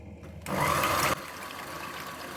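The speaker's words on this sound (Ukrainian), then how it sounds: "Щоб не боблятися і не мити вінчики, то взбиваю спочатку білки." An electric mixer whips egg whites in a bowl, a loud whirring burst of about a second against a quieter background hum, with no talking.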